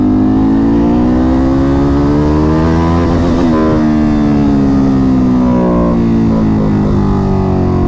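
Ducati Monster 937 motorcycle revving hard to redline in first gear, a loud close engine wail whose pitch climbs steadily, then drops and climbs again, with no talk over it.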